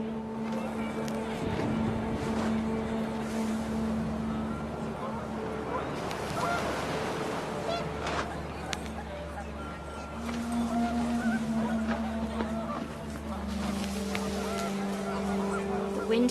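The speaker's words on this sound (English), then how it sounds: "panicked geese appeared and quickly went" Panicked geese honk in the What Remains of Edith Finch video game, a flurry of repeated calls over wind and a busy outdoor bed, with a voice talking through part of it.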